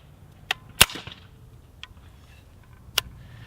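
Subsonic rifle shots through a Bowers VERS 30 suppressor on a short barrel: a sharp crack followed by a few fainter snaps spread over a few seconds, quiet and clipped against a low background.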